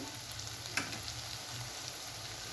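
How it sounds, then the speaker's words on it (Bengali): Spice masala for a bhetki fish dish sizzling and frying in a pan, a steady soft hiss with one brief clink or stir, quiet and continuous with no talking. "ধনের গুঁড়ো দিয়ে আমি বেশ কিছুক্ষণ ধরে মশলাটা কষাবো"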